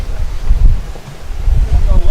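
Gusty wind buffets the microphone at a baseball game in Pocatello in low, rumbling bursts, loud and close.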